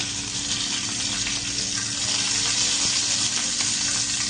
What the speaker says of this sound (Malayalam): ബേ ലീഫ് ഇട്ടു, ബാക്കി സ്പൈസസ് എല്ലാം ഇട്ടേ.